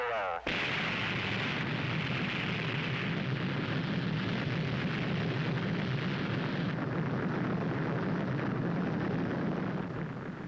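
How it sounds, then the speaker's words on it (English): A missile lifts off at the end of a countdown in 1960, a loud sustained roar that starts abruptly and holds steady and dense for about ten seconds. "As the missile hurtles through space"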